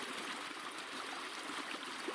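Steady babble of a small creek flowing over stones, a soft continuous trickle with no voices.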